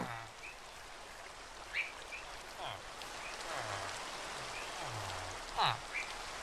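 Steady hiss of rain in Minecraft, a broad even wash throughout, with a few short animal-like calls and blips rising briefly above it.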